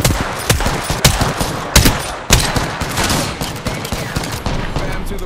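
Video game gunfire, likely a battle royale match, sounds as a loud, dense stream of sharp shots in irregular bursts, with several heavier cracks standing out over continuous rattling throughout.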